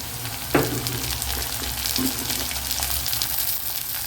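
Onions and green chillies frying in a pan for a mushroom gravy, a steady loud sizzle with an early spoon knock and light stirring, close and uninterrupted by talk.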